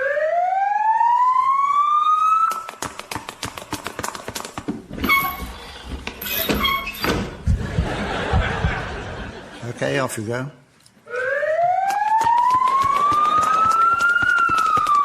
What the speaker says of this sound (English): Never mind that siren.